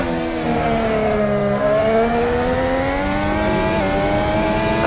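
An F1 car engine in a racing simulator game at the Misano circuit whines loud and steady, its pitch dipping and climbing through gear changes and corners, with no voice over it.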